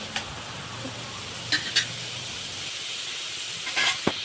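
Onion, tomato and green chilli sautéing in hot oil for sambar, a soft steady sizzle with a few sharp scrapes and stirring clicks from the pan.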